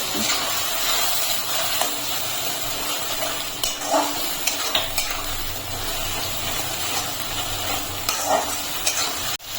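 An onion and spice paste sizzles and fries in a pan while being stirred, with occasional scrapes and light clinks of a utensil against the metal.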